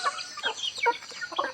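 Native chickens on a rural farm cluck and chatter in short, soft bursts close by, several birds overlapping in a brief flurry of quick, nasal calls.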